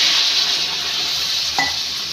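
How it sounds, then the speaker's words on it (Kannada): Okra and roasted potato sizzle steadily in a hot pan as half a glass of water goes in, a constant loud hiss with one brief soft clatter near the end. "ಒಂದು ಅರ್ಧ ಗ್ಲಾಸು ನೀರು ಹಾಕ್ಕೋಬೇಕು."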